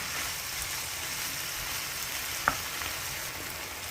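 Tomatoes and softened peppers frying in a pan for Turkish saç kavurma, a steady sizzle with a light stirring scrape and one brief clink.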